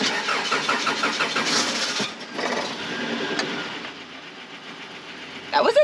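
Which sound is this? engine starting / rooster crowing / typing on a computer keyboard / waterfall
engine starting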